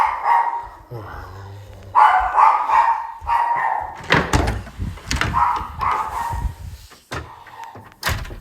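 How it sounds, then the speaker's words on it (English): Several household dogs bark in sharp, repeated bursts, loud and close, with a person talking over them and a door sliding or banging partway through. "My dogs are barking."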